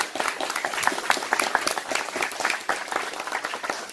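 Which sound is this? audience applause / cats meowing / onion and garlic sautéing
audience applause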